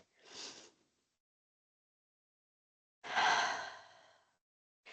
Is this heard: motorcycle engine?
no